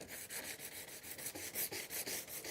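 An abrasive pad scuffs a van surface in quick, even back-and-forth strokes, a soft rhythmic rasping about five strokes per second, close and quiet with no talking.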